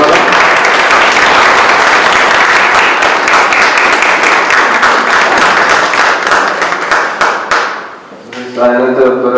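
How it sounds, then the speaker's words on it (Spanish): Loud, dense applause from a conference audience greeting a female doctor invited to lecture on traditional knowledge; steady clapping fills most of the stretch, thins out near the end, and a voice then begins speaking. "les pido por favor un fuerte aplauso para la doctora"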